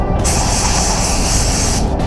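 A spray gun set to 2 bar lays down Octoral waterborne paint, a loud, steady hiss that starts abruptly, holds for about a second and a half, and cuts off sharply, with no talk.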